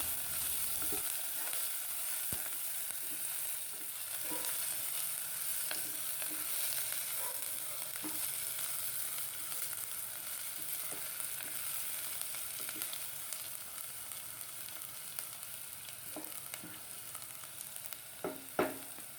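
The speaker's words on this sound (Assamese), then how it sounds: "পিয়াজটো গোল্ডেন কালাৰ হোৱালৈকে ভাজিম" A steady frying hiss of onions browning in a pan fills a long stretch, broken by occasional light clicks and scrapes of stirring.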